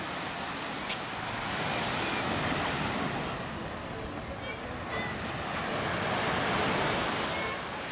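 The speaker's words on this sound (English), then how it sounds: "But it's very windy down here today" Sea waves washing onto the beach at Playa de Muro on a very windy day, a steady, full roar of surf mixed with gusting wind buffeting the microphone throughout.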